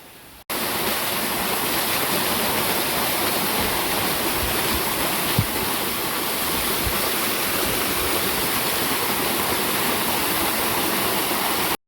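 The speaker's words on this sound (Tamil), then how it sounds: "ஃபால்ஸில் வந்து ரொம்ப தண்ணி வரல தண்ணி வந்து நார்மலாக தான் இருந்துச்சு" Agathiyar waterfall near Thovalai in Kanyakumari, flowing at normal volume, produces a steady, loud, unbroken rush of falling water that fills the whole scene from start to finish, with no voices.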